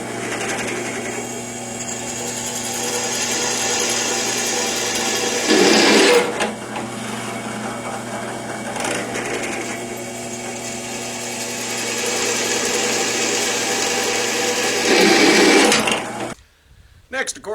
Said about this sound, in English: I'm also going to want to drill some mounting holes in these cut pieces.